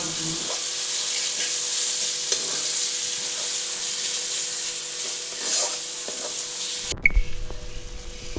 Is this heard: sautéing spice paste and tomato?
yes